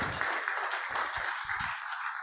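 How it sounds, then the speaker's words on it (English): A meeting audience at a Rotary club gathering applauds briefly, steady clapping at moderate level filling the short stretch. "I think he deserves a round of applause for that"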